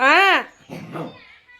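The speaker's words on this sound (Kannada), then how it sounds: "ನಾಯಿ ನೋಡ್ರಿ ಹೆಂಗೆ ಆಡ್ತೈತೆ ನಮ್ಮ ಪಾರ್." A pet dog at play gives a short, high whining yelp, followed by softer scuffling sounds and a nearby voice, all within a brief burst.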